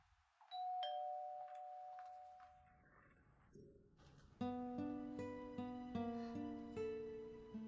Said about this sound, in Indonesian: Hansiu, ada yang menekan bel pintu.